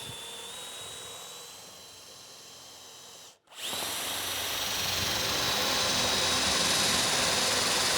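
A power drill boring holes into a wooden seat board for a live edge Windsor-style bench, with a high whine that drops briefly to near silence between holes, then resumes louder and sustained.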